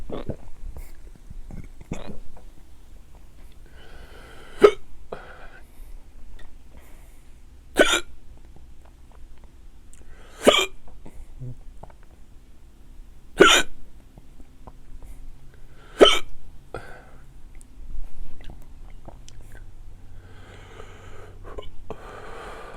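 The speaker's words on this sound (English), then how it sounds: "There's the hiccups." Repeated sharp hiccups from a person after eating hot chili peppers, about six distinct jolts spaced a few seconds apart, close and clear over quiet breathing and light background rustle.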